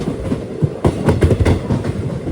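A passenger train running on rails during a rainy journey from Kerala into Tamil Nadu, heard from inside as a loud, rumbling rhythm of clickety-clack wheel beats over continuous rolling noise.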